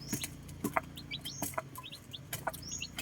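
Chicks between one day and one week old peep in quick, high chirps, several overlapping at low volume amid soft clucks and light rustling.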